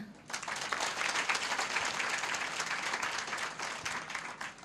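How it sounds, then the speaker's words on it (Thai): An audience at a Thai business talk about facial massage training gives a renewed round of applause, a dense, even wash of clapping that rises quickly and holds for several seconds at moderate level. "อยากให้ปรบมือให้กับท่านอีกครั้งหนึ่งค่ะ"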